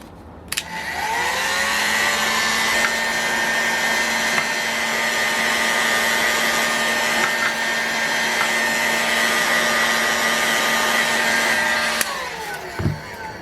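A heat tool warming the front housing of an OS 61FSR-H model engine for a bearing install, with a constant loud electric whir and blowing hum that runs unbroken for about twelve seconds, then cuts off with a short clunk.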